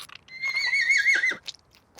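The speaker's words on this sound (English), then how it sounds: "The baby horse is crowning!" A cartoon baby horse whinnies in a bright, wavering neigh lasting about a second, followed by a few short snorts and scuffles, loud and close with no talk.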